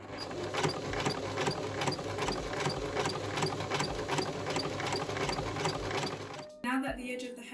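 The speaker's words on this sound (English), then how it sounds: "we're going to do an edge stitch and this will completely seal the hat" A sewing machine runs continuously while edge stitching a bucket hat, a fast, even mechanical whir and rapid needle clatter up close, stopping abruptly near the end with a short voice afterward.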